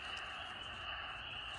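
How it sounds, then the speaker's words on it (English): Wood frogs and spring peepers calling from vernal pools in early spring: a dense, continuous chorus of distant, faint trilling and peeping, steady throughout with no talk. "there are loads of wood frogs and spring peepers back there"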